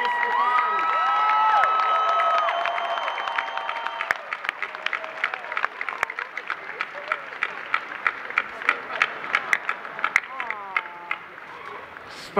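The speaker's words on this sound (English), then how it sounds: "So a round of applause, Mr. Rhys Ifans." A convention panel crowd for The Amazing Spider-Man applauds and cheers, the clapping thinning into scattered claps under a few whoops and some talk.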